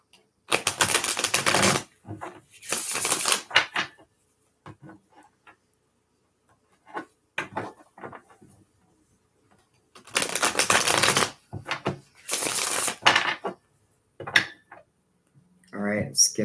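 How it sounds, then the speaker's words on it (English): A Gilded Tarot deck is riffle-shuffled in four crisp, loud bursts of fluttering cards, arranged in two pairs with quiet pauses and a few soft card handling taps between them. "Let's use a gilded churro because I can give them a nice shuffle."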